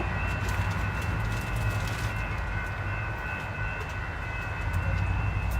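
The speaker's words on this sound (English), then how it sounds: "the trains in San Diego are noisy as heck." A train passes in Old Town San Diego, a loud sustained rumble with steady rail clatter and a high screech, while pigeons coo nearby.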